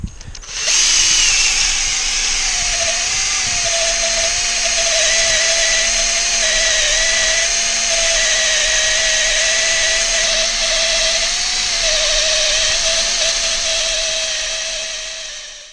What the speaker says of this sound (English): I'll drill the small hole